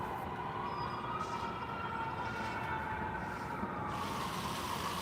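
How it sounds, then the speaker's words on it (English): Emergency sirens wail near a railway line, a rising and falling tone sounding from a distance over a steady broadband background rumble, with no voices. "We're starting tonight with sirens."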